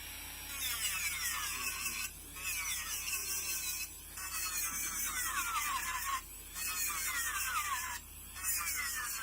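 An electric nail file tapers a nail tip, its high whine rising and falling in short passes of about two seconds each with brief pauses between them, close and steady.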